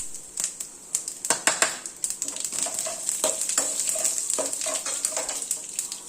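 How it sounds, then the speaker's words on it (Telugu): Hot oil crackles and spits as mustard seeds, cumin, urad dal and dried red chilies pop in irregular bursts, with occasional clinks of a metal utensil against a pan, close up and steady. "పోపు ఆవాలు, జీలకర్ర, మినపప్పు, ఎండుమిరపకాయ పోపు వేయాలి"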